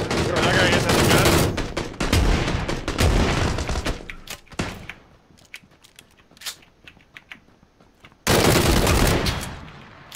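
Bursts of rapid gunfire in PlayerUnknown's Battlegrounds, loud volleys at the start and again near the end, separated by scattered single shots and quieter stretches.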